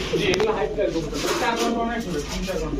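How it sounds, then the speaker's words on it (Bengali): Soft cooing of high flyer Giribaz pigeons murmurs beneath a person talking close by, the birds' low calls blending into the background. "হাই ফ্লায়ার জাতের গিরিবাজ কবুতর"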